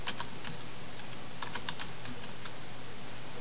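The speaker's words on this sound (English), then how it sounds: "You can type anything into the search bar" Light, irregular keystrokes on a computer keyboard as a word is typed into a Windows Vista search bar, soft and close, with a quiet steady background hum and no voices.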